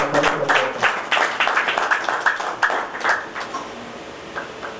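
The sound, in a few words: loud applause for the volunteer team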